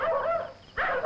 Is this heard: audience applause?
no